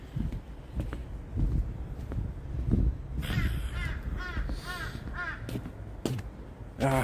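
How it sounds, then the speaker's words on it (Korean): Outdoors on a chilly winter walk near Daecheong station, a crow caws in a quick series of hoarse calls at middle distance, with footsteps and light rustling around it. "아, 까마귀."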